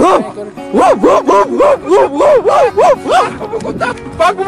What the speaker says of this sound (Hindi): कुत्ता भाग, जल्दी भाग।